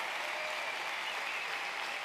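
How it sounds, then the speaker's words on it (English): An audience applauds a presenter and her team at an event, a steady even round of clapping heard from a distance and fairly soft, with no talking over it. "could you please give a nice round of applause for Michelle and her team"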